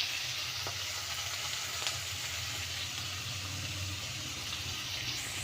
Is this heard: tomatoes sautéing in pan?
yes